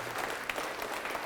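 Brief applause from a church congregation in praise of Jesus, a soft continuous patter of clapping heard from a distance with a faint voice beneath.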